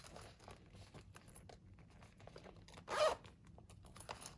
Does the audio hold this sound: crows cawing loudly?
no